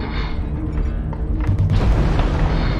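A heavy boom from an incoming missile strikes in a sci-fi combat video game set in a canyon assault, a loud low thump swelling over a dense rumbling game soundscape for about three seconds.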